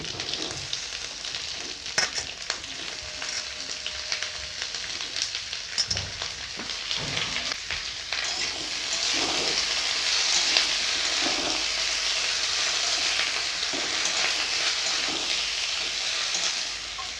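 Spring onion greens frying in a pan, a steady broadband sizzle that swells louder midway and holds, with occasional utensil taps and stirring scrapes, close and alone without talk.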